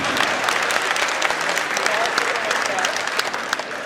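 Audience members at a Hindi comic poetry recital break into lively applause, many hands clapping densely and fairly loudly for several seconds before easing off slightly at the end.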